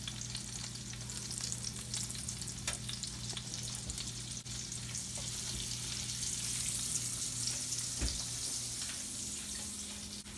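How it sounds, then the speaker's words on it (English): Butter sizzles steadily in a hot pan, a continuous close frying hiss with faint scraping and stirring, a low background hum and a single sharper knock near the end. "to this, I'm going to add a little bit of butter."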